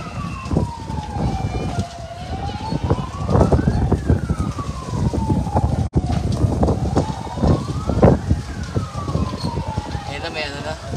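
A fire truck siren at a fire in Las Piñas wails up and down in slow rising and falling sweeps, loud and fairly close, over rumbling wind and background noise.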